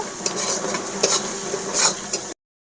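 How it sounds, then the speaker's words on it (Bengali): Chopped onions fry in hot oil seasoned with black cumin seeds in a pan, sizzling loudly and steadily up close while a utensil stirs and scrapes through them in short pushes. "এবারে পেঁয়াজ কুচি দিয়ে দেব। পেঁয়াজগুলো ভালো করে আমি লাল করে ভেজে নেব।"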